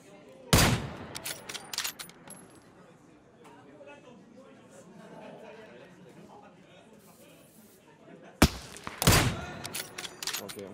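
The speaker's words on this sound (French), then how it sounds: "Ok, on a tiré dessus derrière." Gunfire in a battle royale game comes as two sharp, loud bursts, one early and one late, each a quick cluster of shots, with a person speaking quietly in between.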